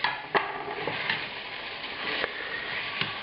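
Browned meat going back into a pan for chili con carne, beef or venison, frying with a steady sizzle. Occasional stirring scrapes and clicks sit over it, and no one talks.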